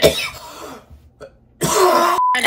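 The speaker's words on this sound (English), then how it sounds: "Cover your mouth, ma'am. You just coughed on us." A single sharp cough rings out close by, followed by a brief pause and then a burst of noisy, breathy sound.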